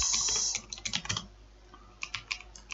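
C++ code typed on a computer keyboard in irregular bursts of quick clicks, with short pauses between groups of keystrokes, close and clear against a quiet background.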